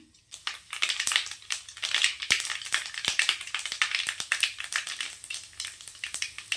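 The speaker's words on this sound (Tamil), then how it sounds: "எண்ணெய் சேர்த்துக்கலாம். கடுகு, உளுத்தம் பருப்பு சேர்த்துக்கலாம்." Mustard seeds and urad dal fry in oil in a kadai, giving a dense crackling sizzle broken by sharp popping bursts that keep on steadily at close range.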